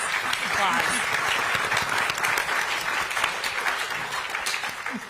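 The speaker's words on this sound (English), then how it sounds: "let's give our panelists a big round of applause" An audience at a town hall session of a climate festival gives panelists a sustained, dense round of applause that holds steady for several seconds, with voices faintly mixed in.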